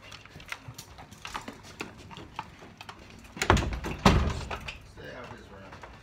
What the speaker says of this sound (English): That's why we're closing the door.